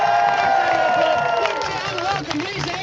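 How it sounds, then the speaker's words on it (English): Crowd at an outdoor protest on Westminster Bridge cheering and clapping steadily, a dense, fairly close wall of applause and shouts that eases slightly toward the end. "Can we get some applause from this side?"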